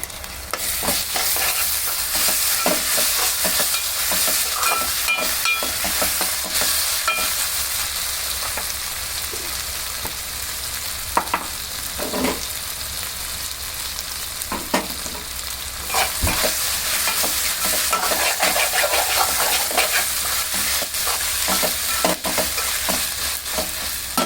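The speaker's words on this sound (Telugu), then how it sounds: "ఇప్పుడు ఉల్లిపాయలు వేయ కదా ఇందులో అల్లం వెల్లుల్లి పేస్ట్" Onions fry with ginger-garlic paste in oil seasoned with mustard and fenugreek seeds for a fish and raw mango curry, a loud continuous crackling sizzle with steady spoon stirring and scraping throughout, no voices.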